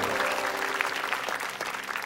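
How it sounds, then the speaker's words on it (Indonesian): A studio audience claps warmly at a comedy show, a dense burst of applause lasting about two seconds with no voices over it. "Boleh tepuk tangan buat kita semua."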